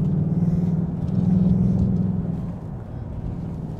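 A Ford Mustang GT engine idles and revs with a deep, steady burbling rumble heard from inside the car, swelling slightly mid-way then settling lower.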